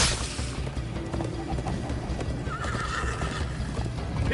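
Horse in Minecraft: Story Mode galloping with quick clip-clopping hooves and loud neighs amid busy game sound effects, close and continuous.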